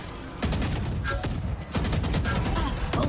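Valorant gunfire rings out as a series of sharp, close shots in irregular bursts, several quick cracks spaced across the moment over faint background game noise.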